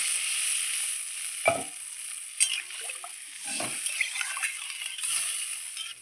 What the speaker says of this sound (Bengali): মশলাটা খুব একটা বেশি ভাজতে হবে না, এটা আমি একদম পরিমাণ মতো জল দিয়ে দেবো